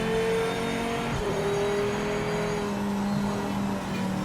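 A Viper race car engine drones steadily in the racing game Project Motor Racing, a loud, sustained tone that shifts pitch slightly partway through as the car holds speed, with no talk over it.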